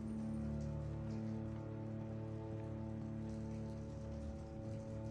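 Rain falls steadily in The Walking Dead video game, Season 2, a constant soft hiss of drops layered over a low droning background tone, with no voices.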